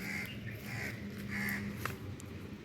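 Several crows caw repeatedly near a newly built house, harsh calls coming in bursts against steady outdoor background noise.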